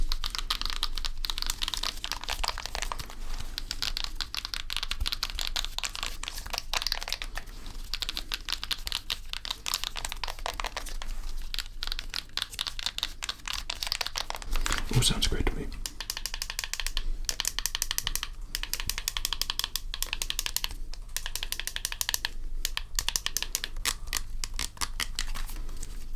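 Buttons on a game controller are pressed in a long, rapid, close-up stream of crisp plastic clicks and taps, with a brief spoken line partway through.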